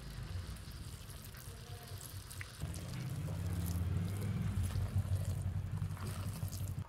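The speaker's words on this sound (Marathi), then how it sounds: "आता ह्याच्यावर थोडस गरम पाणी टाकायचं।" Hot water poured over soft-cooked Indrayani rice topped with coriander in a home kitchen; a steady, close pouring rush starts partway through and runs to the end, after a quieter stretch of faint background noise.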